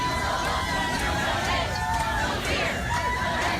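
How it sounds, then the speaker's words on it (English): Crowd of protesters lined up in an airport arrivals area at Dulles, a steady dense babble of many voices with cheering swelling through, continuous and fairly loud throughout. "In Dulles, crowds could be heard lined up at the receiving area to chant and cheer for refugees and immigrant families"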